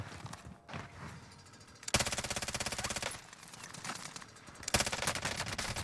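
Gunfire in the Call of Duty Warzone battle royale comes in two rapid automatic bursts of sharp, evenly spaced shots, separated by a quieter stretch with faint background sounds.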